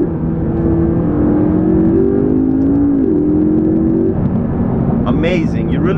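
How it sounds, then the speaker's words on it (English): A 2012 McLaren MP4-12C engine hums loudly from inside the cabin as the revs change smoothly, with a throttle blip on a downshift near the end, all under constant road and engine drone. "And so now you get beautiful throttle blip downshift."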